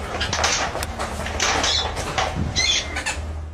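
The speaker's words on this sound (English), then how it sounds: "birds flying away scared" A flurry of soft fluttering wing beats with rustling and a few faint chirps, bursting out in quick clusters against a low background rumble.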